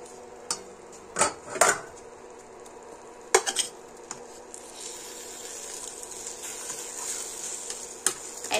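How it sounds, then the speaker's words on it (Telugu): A spoon stirs mango chutney in a pot just uncovered, giving a few sharp metallic scrapes and clinks over a faint background hiss. "మూత తీసి కలబెట్టుకుందాం ఒకసారి."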